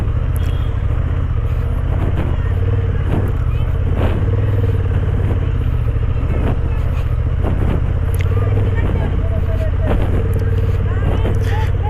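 A Honda CB750 motorcycle's engine drones and revs on a broken mountain road during a long hill ride, a loud, continuous low rumble with rattling clatter over it and a rider talking throughout.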